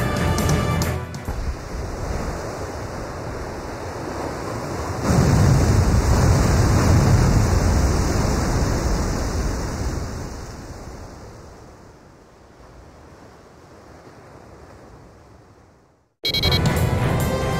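A huge submarine surfaces from the ocean in the Ace Combat 5 video game, a loud sustained roar of rushing water and churning surge that swells, slowly fades, then cuts off abruptly before a brief burst of noise.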